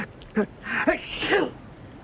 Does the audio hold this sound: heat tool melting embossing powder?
no